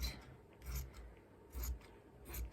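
Scissors snip through pillowcase fabric to make backing pieces for double-sided bunting, three quiet close cuts spaced about a second apart with faint rustling between them.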